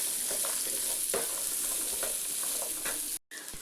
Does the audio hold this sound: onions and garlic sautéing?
yes